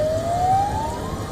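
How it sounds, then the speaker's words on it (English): Emergency siren wailing loudly with a slowly rising tone over a dense rumble of traffic, sounding during a tsunami warning after a major earthquake in Russia. "Sirens blared."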